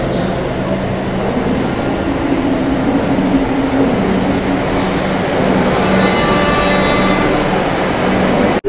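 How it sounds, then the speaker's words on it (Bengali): Kolkata Metro train pulling into the crowded Esplanade platform, a loud, close rumble of rolling stock with faint wheel squeal and clatter building toward the end as it arrives. "এসপ্ল্যানেডে 1 নম্বর প্ল্যাটফর্মে কিন্তু আমাদের দমদম যাওয়ার মেট্রো ট্রেন ঢুকছে।"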